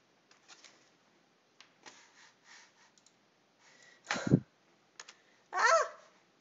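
A computer keyboard stuck on the letter E clicks in sparse, isolated taps separated by silence, then gives a couple of louder, sharper clattering bursts near the end.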